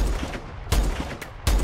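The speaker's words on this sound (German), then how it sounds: "Alter, da wird rumgeschossen." Gunfire in the Call of Duty: Advanced Warfare video game, three sharp, heavy bursts at roughly even intervals, loud and close, with rumbling low-end tails between them.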